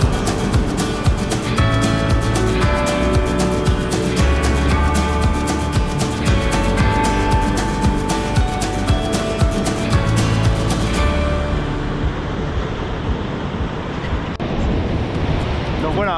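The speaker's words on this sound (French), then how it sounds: "on se rend sur la plage" Loud, steady rush of waves breaking on a beach with wind noise, continuous and close throughout.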